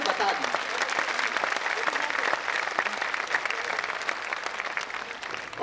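Applause from the audience at a Hindi poetry recital night, a steady dense wash of many hands clapping throughout, fairly loud and sustained with some murmuring.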